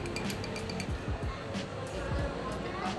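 A spoon clinks lightly against a glass while stirring a drink topped with thick, marshmallow-like cream at a café in Hanoi. Several quick, faint taps ring out under café chatter and nearby voices.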